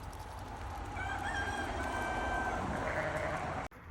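A rooster crows in a long, drawn-out call over the murmur of chickens, heard at moderate distance outdoors with no talking.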